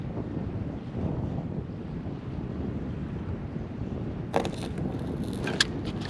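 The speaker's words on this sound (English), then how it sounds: "so wind is blowing now" Wind buffeting a microphone on a boat beside docks, a steady broad rush with a faint watery wash beneath and a few sharper knocks near the end.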